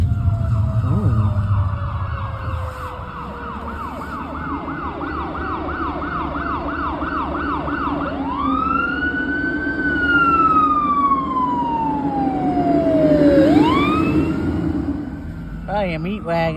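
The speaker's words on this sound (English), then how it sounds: "I haven't seen one of them old Yelp sirens in a long time on a fire truck" An old-style yelp siren on a fire truck wails past on the road at night, its rapid repeated whoops giving way to slower rising and falling sweeps, loud and close over steady road rumble with people talking.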